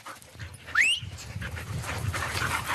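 Dogs pant steadily on a walk in the Esterel massif, with a single high whimper or yip rising briefly near the start, heard fairly close and faint.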